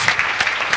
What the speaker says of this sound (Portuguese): receba com muito carinho, forte aplauso desta igreja, pastora Enoide.